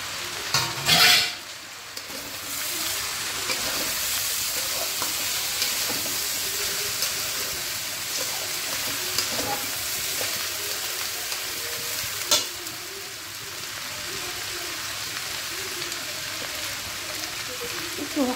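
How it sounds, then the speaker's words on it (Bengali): Bhog rice and vegetables fry in a pan with a steady, close hiss of sizzling that runs throughout, broken by a few sharp clinks and scrapes of stirring near the start and again midway. "ভোগ চালটাকে একটু ভালো করে ভেজে দেবো।"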